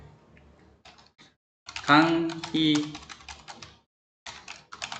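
Someone types on a computer keyboard while entering details in tax accounting software, with short bursts of key clicks broken by pauses and a stretch of talking in the middle.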